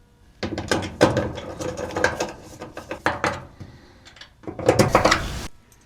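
A bottom hinge bracket is screwed onto an LG EasyLoad dryer door, giving off bursts of close ratcheting clicks and rattling metal, with a short pause before a final flurry.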